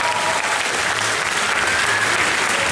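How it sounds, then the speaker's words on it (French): A convention crowd at a gaming show conference applauds loudly and continuously, close and dense, with no speech over it. "applaudissements pour vous, parce que vous le méritez"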